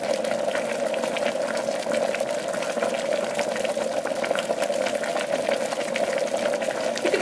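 A kettle heating water gives a steady, close rushing hiss with a constant tone and faint bubbling, unbroken throughout.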